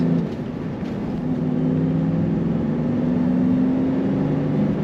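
A 1994 Ford Mustang Cobra Indy Pace Car convertible with a 5-speed manual accelerating, its engine a steady, loud drone with a rising tone held throughout, no talking over it.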